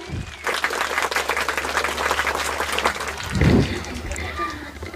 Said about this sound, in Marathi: जोरदार टाळ्या वाजवायच्या आहे या विद्यार्थ्यांसाठी सर्वांनी